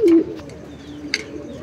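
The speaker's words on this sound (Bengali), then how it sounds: "এই যে নটটা ডাক শুরু করে দিছে দেখছেন" A male pigeon in a large loft gives a low, short coo near the start, followed by faint softer cooing and a brief higher chirp amid quiet loft background.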